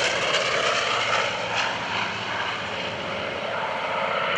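An F4U-5NL Corsair propeller fighter flies at an airshow, its piston engine giving a loud, steady droning roar that swells slightly as it passes, heard alone.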